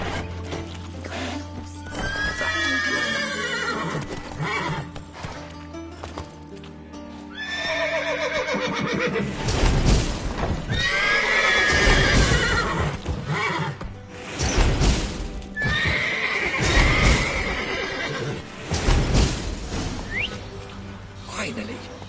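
Horses in a PS4 video game whinny and neigh repeatedly amid clip-clopping hooves, the loud neighs rising in several bursts over a rumbling game soundtrack, with a voice speaking at times.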